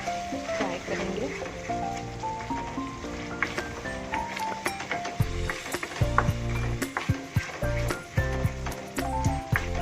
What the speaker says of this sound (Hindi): मसाले को अच्छे से फ्राई करेंगे।